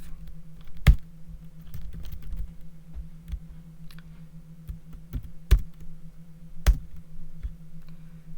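Keys on a computer keyboard are tapped sparsely while a terminal command is typed, with scattered soft clicks and a few sharper keystrokes over a low steady electrical hum.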